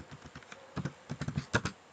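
Typing on a computer keyboard while entering a name into a spreadsheet, with a run of quick, close key clicks in uneven bursts and no talking.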